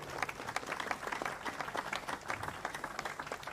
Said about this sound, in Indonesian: beri tepuk tangan yang ikhlas buat beliau